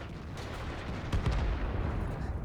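Tank main gun firing in the World of Tanks game with the AMX CDC, a booming shot with a rumbling tail over steady battle background noise, heard once and fairly loud.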